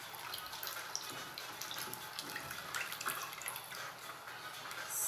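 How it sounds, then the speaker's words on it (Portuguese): Vinegar is poured slowly in a thin stream, a faint continuous trickle of liquid heard close and quiet. "agora nós vamos colocar também o vinagre de forma... Bem calminho, para não causar reação"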